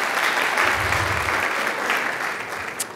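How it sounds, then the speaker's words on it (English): Audience applause at an evening Holocaust survivor speaker event, steady broadband clapping from a seated crowd that fills the whole stretch, slightly thinning toward the end. "Give yourselves a round of applause for being here tonight."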